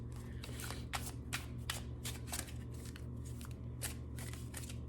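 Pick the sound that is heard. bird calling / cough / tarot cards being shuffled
tarot cards being shuffled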